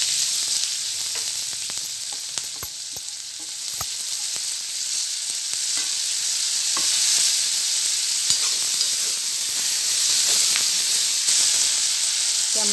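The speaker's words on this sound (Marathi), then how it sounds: "हळद, त्यामध्ये आता हे शेंगा टाकून देते।" Cluster beans sizzle in hot oil with turmeric in a pan for a traditional Maharashtrian vegetable dish; a steady, close hiss of frying with scattered small pops and crackles throughout.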